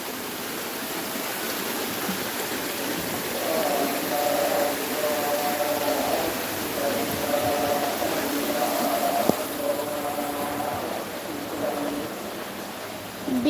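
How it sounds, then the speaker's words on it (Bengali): Tidal floodwater from a river breach flows through a village yard in a continuous broad rushing wash. It stays close and steady, with faint tonal background sounds and some low voices in places. "আমাদের বাড়ির মধ্যে কীরকম জোয়ারের পানি যাচ্ছে মানে নদী ভাঙার পানি আর কি"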